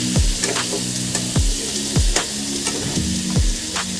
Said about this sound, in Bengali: ভেজে নেব আলুটা হালকা ফ্রাই হয়ে গেছে